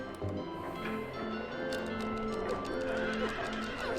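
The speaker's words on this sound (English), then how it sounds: "just hearing the sounds of the horse whinnying as you hit it" In the video game Silent Hill 3, a horse whinnies as it is hit, with repeated high neighs and clip-clopping hooves over a continuous background.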